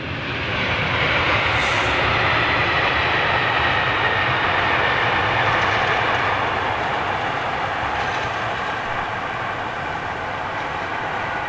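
A Japan Airlines airliner departs London Heathrow, its jet engines a broad, sustained roar heard from a distance that stays loud and even for the whole stretch.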